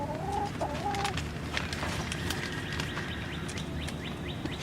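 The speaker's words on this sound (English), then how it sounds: "The chickens are out." Backyard chickens clucking and calling near a garden where a bonsai ficus is being pruned, with several short, overlapping clucks over steady outdoor background noise.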